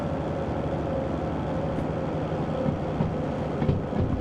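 A locomotive in the Derail Valley train simulator runs with its wheels slipping, a loud, steady mechanical rumble and rolling drone that continues throughout with slight swells near the end.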